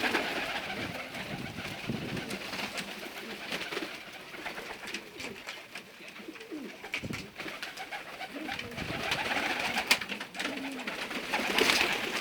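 Pigeons coo nearby in a loft with young birds, soft repeated throaty calls over rustling and wing movement.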